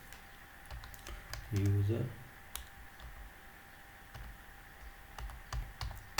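Code is typed on a computer keyboard in sparse, irregular clicks and key taps, with a voice speaking briefly over them.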